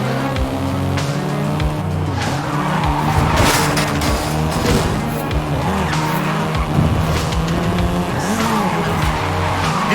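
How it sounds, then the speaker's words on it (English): A Volkswagen Golf R in the Forza Horizon 5 racing game, engine roaring loud and close while the tyres squeal and skid continuously through the turns. "This version is the Volkswagen Golf"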